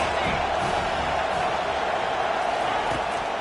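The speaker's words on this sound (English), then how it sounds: "This crowd trying to make life miserable for this offense." Football stadium crowd roaring steadily at Auburn, a dense loud wall of noise as fans try to rattle the offense, continuous throughout with no clear breaks.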